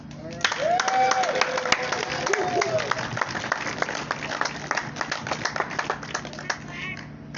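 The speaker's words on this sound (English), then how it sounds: "can we give a big Flagstaff round of applause to our spiritual Sunday morning speaker, Barbara F." A Flagstaff Round-Up AA speaker meeting audience breaks into a big round of applause, dense steady clapping that fills the room for several seconds, with a few cheers rising over it.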